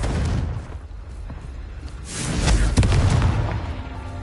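A Confringo fire spell explodes in the video game Hogwarts Legacy, producing a loud, sustained rumbling boom with crackling blasts that swell toward the middle and then carry on steadily.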